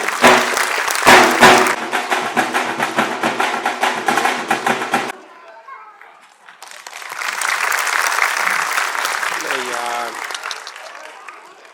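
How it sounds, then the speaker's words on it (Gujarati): Audience at a Vijayadashami festival gathering applauding loudly to honour guests, a dense burst of clapping that pauses briefly and then swells again, with a voice speaking near the end. "આપણે બધા ખૂબ જોરદાર તાળીઓથી મહેમાનોને સન્માનિત કરીશું."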